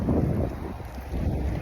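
Strong wind buffets the microphone in loud, low gusts, a roaring rush with no other clear sounds.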